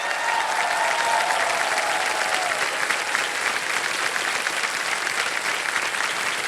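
A television quiz-show studio audience on Kaun Banega Crorepati bursts into loud, dense applause that continues unbroken for several seconds, with a faint tone briefly audible underneath.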